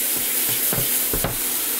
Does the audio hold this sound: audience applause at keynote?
no